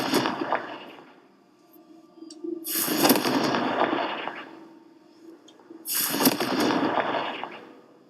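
Fiery Confringo spell blasts in Hogwarts Legacy, several crackling booming explosions, each a loud broad burst that rumbles for about a second or two, with quieter gaps between.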